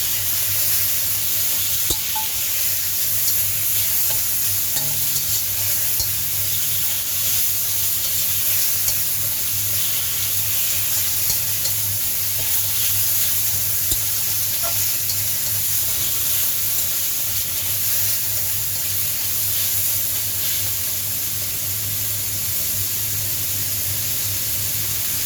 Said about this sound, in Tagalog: i-fry natin siya maigi